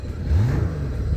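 A 1996 Honda GoldWing GL1500 SE motorcycle engine revs up briefly with a quick throttle blip, a steady mid-pitched drone that rises and then holds, close and fairly loud.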